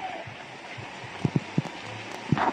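Rain falls during a flood in the Philippines as a soft, steady patter, with a few sharper drips tapping nearby against quiet background noise.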